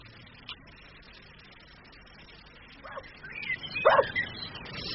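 A dog in a radio drama gives a few faint yips and barks, with a short whimpering bark cluster near the end against quiet background hiss.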